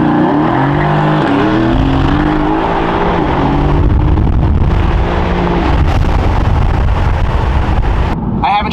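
A Mercedes-AMG GT S engine revs loudly up close, a sustained roar with rising and falling pitch sweeps, buffeted by heavy wind noise.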